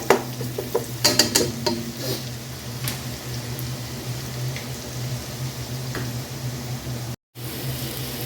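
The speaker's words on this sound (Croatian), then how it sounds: "nek nam se crni luk fino proprži" Onions frying in a pan give a quiet, steady sizzle under a low hum, with a few clinks and stirring knocks near the start, close by and without talk.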